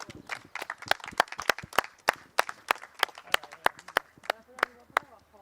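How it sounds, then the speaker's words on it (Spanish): A small group claps outdoors along an old country path, sharp individual hand claps ringing out irregularly and fairly close, with some talking mixed in. "Muy bonita, bravo, un aplauso."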